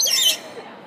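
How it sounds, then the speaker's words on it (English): A bird perched on a visitor in the Busch Gardens Williamsburg aviary lets out a loud, close, shrill squawk lasting a fraction of a second before fading into quiet background. "I'm at Busch Gardens and I've got a bird on me."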